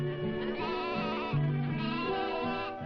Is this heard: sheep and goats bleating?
yes